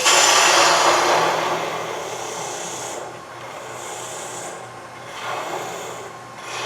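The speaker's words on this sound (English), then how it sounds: "That's a bevel supported cut, just like on the inside of a bowl or the outside." A wood lathe gouge makes bevel-supported cuts on a natural edge goblet, giving a loud rasping, hissing shear that swells and fades in repeated strokes.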